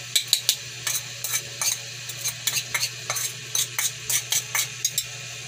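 Onion and ginger sizzle in a hot pan while being stirred, with a steady low frying hiss under a series of repeated scraping stir strokes at a quick, fairly even rhythm, close up and moderately loud, with no talking.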